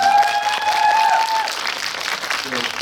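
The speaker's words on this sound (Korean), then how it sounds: "박수 한번 부탁드립니다." A cinema audience at a CGV screening-hall live talk event breaks into steady, dense applause that fills the room, with a voice briefly heard over the clapping.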